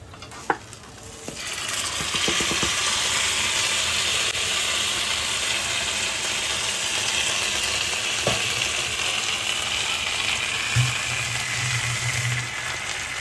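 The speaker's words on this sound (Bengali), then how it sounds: "এবার আমি কষানো চিকেনটা এর মধ্যে দিয়ে দেবো" Braised chicken goes into rice that is frying in a pan for chicken tehari. A few clinks come at first, then a steady, close hiss of sizzling runs throughout with light stirring and no talk.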